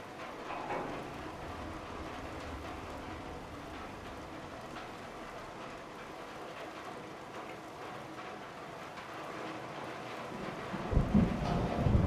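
A radiation storm in Fallout 4 rumbles with low, continuous thunder and a steady rain-like wash, growing heavier and louder near the end.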